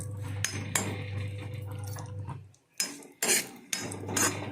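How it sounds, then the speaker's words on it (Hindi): Whole cashews are stirred continuously as they roast in a pan, giving repeated close metallic scrapes and clinks of a utensil against the pan over a low steady hum, with brief pauses between strokes. "काजू बहुत जल्दी भुन जाते हैं, लगातार चलाते हुए बहुत ध्यान से, वरना ये जल जाएंगे।"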